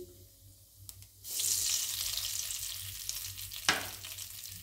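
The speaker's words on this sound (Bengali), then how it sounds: "এইবার ফোড়নটা ফেটে গেছে।" Cumin seeds and chilli tempering in hot oil for a Bengali banana-flower dish, bursting into a loud, steady sizzle after a short quiet start, with crackling spits and one sharp pop near the end; no talking.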